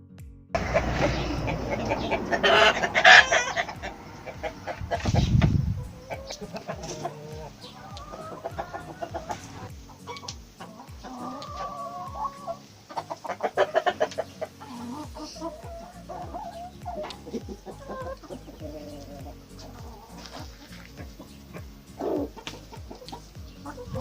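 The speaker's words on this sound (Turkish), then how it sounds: "Tavukların olduğu yere geldik." Chickens cluck repeatedly nearby, with a few louder squawks early on and bird calls continuing throughout.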